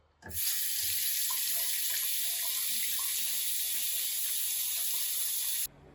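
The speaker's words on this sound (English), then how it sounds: "Then run the burns area under clear cold water for 10 minutes or until it actually stops hurting." Cold water pours steadily from a tap into a sink, a loud, continuous broadband rush that starts abruptly and cuts off near the end, with no talking over it.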